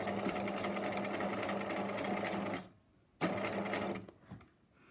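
A sewing machine stitches rouleau loops onto corset fabric with a steady, close whir, stops abruptly, then runs briefly again before halting.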